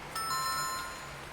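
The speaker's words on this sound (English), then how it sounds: "I'm gonna try the doorbell again." Doorbell in the video game 2064, a single bright ringing chime with a clear tone that fades over about a second, alone and fairly faint.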